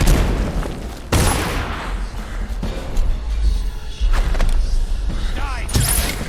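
Gunfire in Dishonored, with several sharp bursts scattered through a busy game soundscape, mixed with loud booming impacts and voices.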